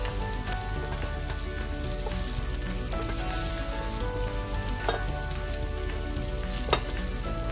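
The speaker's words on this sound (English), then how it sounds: "I'm going to saute this lightly so they keep their crispness." Bell peppers sautéing lightly in a pan with butter, a steady close sizzle and crackle running throughout with a few scraping stirs and one sharp clink near the end.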